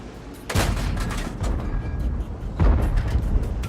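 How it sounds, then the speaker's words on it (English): Two heavy tank cannon blasts from the World of Tanks video game boom about two seconds apart over a steady rumbling engine drone. "So I shoot at him, miss."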